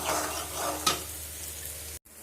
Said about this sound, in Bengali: এগুলো এবার ভাজবো